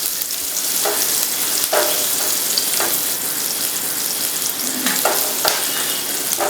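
Loud, steady sizzling of curry leaves and asafoetida dropped into hot oil, crackling and spitting continuously up close, with no talking.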